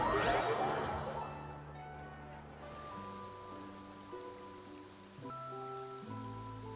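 Steady rain falls in a Genshin Impact game scene, a soft continuous patter with a brief splashy burst at the start, layered under sustained musical tones.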